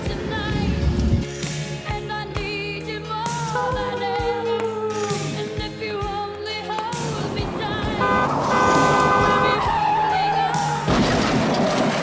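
A car skidding and hitting someone as a staged sound effect in a reenactment, with a long screech of tyres, horn toots and a crash building over dense layered noise, loud throughout and without talk.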